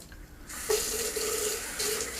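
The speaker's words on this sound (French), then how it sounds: "je vais me rincer le groin." A tap runs steadily into a sink for rinsing during a shave, starting abruptly after a brief quiet moment and then gushing close and continuous.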